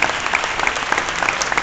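Audience applause fills an award ceremony hall for the Best Actress Silver Astor, a steady, dense wash of many hands clapping at close range with no voices over it.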